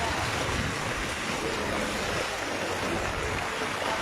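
Floodwater current rushing through a flooded city street between Zindabazar and Amberkhana, a loud, dense, continuous roar of churning water close by, with no clear talk over it.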